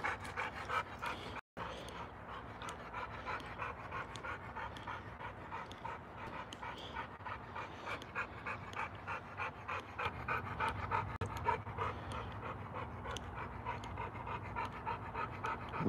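A bulldog pants close up in a kennel, a quick, steady rhythm of breathy huffs that continues throughout with no voices.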